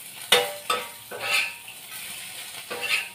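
Small fish fry in a pan with loud bursts of sizzling oil, a few sharp spatters and stirring scrapes coming in uneven pulses, close and without talk.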